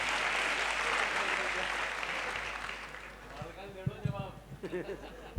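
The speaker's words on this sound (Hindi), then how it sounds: "लीजिए, ताली बजाइए इसके लिए।" An audience at a youth conference in Rajasthan breaks into loud, dense applause that fills the hall, then fades out as a voice starts speaking over it.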